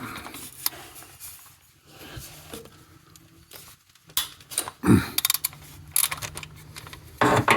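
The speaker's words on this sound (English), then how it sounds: "we're going to use a 10mm socket and a short extension. And I'm just going to loosen it up." A 10mm socket on a short extension and ratchet loosens a bolt on a 2016 Lexus RX 350 during a coolant change, with scattered clicks, metallic ticks and scraping handling noises that grow busier toward the end.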